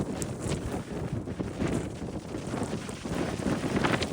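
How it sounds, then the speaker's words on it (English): Strong gusting wind blows across a cliff top overlooking a beach at Newcastle, New South Wales, making a continuous loud rushing roar that swells and buffets the microphone, with surf faintly underneath. "The wind really picking up now."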